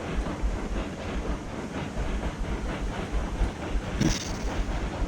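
A steam locomotive moving in the video game Railroads Online, giving a steady, loud rumble with rhythmic chuffing and clicking that carries on without a break, plus a short brighter hiss near the end.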